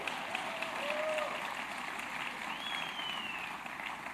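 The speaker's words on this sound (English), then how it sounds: "Give her a big round of applause." A crowd at a World AIDS Day event applauds Health Commissioner Dr. Mary Bassett, a continuous, washy wall of clapping heard from some distance in a reverberant space, with faint whistles rising above it.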